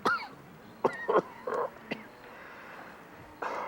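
A man gives several short, dry coughs at close range in a quiet room, spaced irregularly, with a throaty rasp and a faint breathy sound between them and one more at the end.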